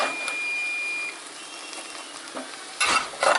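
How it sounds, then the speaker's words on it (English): Sweet potatoes with onions and bacon are stirred in a hot pan, a soft sizzle carrying under scraping, with a faint electronic tone early on and a couple of louder clattering stirs near the end; nobody talks. "I'm just going to stir them up before they get covered in the maple sauce"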